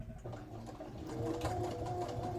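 A sewing machine runs a short back stitch on a thrifted man's shirt, a steady close mechanical whirr and rapid needle chatter that holds even throughout.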